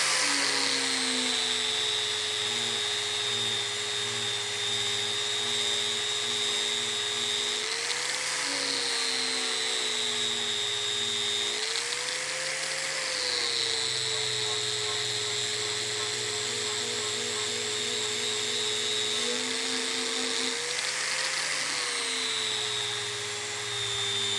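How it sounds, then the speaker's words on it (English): Power tool polishing stainless steel toward a mirror finish, a sustained close high-pitched whine whose pitch dips briefly several times as pressure changes, with no talk. "giving it a polish this way, then cutting it this way just to break up the direction that it's grinding away at"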